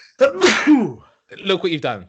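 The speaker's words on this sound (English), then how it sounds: "You just sneezed in my mouth?" One sharp, close human sneeze bursts out, followed after a short pause by a voice speaking.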